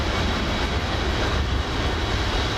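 A steady, loud aircraft engine drone from Microsoft Flight Simulator 2024, a constant broadband roar with no breaks, modelled partly on a Cessna 172 engine sound.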